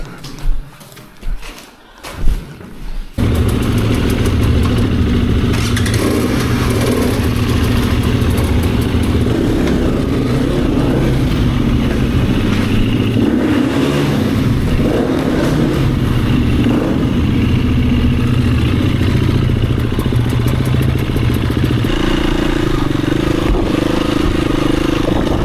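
An enduro motorcycle engine idles steadily and loudly close by after a few seconds of clattering bumps, with a rough low rumble throughout.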